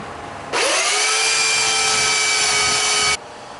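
A power sander spins up and runs steadily for about two and a half seconds on a wooden headboard frame, a loud, close, high whine that stops abruptly.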